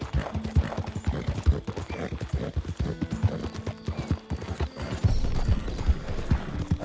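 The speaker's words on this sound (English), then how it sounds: "Already level 2 with this horse." Horse hooves clip-clopping in the video game Red Dead Redemption 2, a steady, fairly close rhythmic trot with a faint whinny and no talking.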